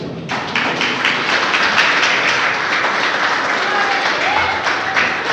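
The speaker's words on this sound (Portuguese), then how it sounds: "Aplauda Ele." A congregation applauding during a Portuguese-language Protestant church service, dense sustained clapping from many hands filling the room at close range, steady throughout with voices mixed in.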